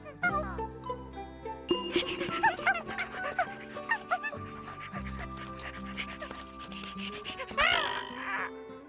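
A dog whimpers and yips in an anime scene, set against music with jingling and tinkling tones, with several sharp high cries and bursts near the end.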